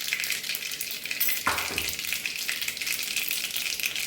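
Mustard seeds, cumin and a pinch of asafoetida fry in hot oil with a steady, loud crackling sizzle that flares sharply for a moment partway through, then settles back into continuous spattering, with no voices.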